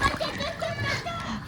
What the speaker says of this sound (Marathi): मी ट्राय करतोय मोबाईल बुडवायचा पाण्यात.